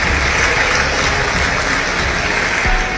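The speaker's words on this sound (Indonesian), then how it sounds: "Maksudnya apa tepuk tangan ini?" An audience at a political gathering applauds in a thick, continuous wash of clapping that stays loud and even from start to finish.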